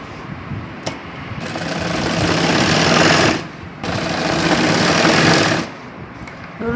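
Loud, close sewing machine stitching along a lehenga waistband, running in long rattling bursts broken by two brief pauses.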